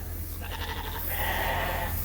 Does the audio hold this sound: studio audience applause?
no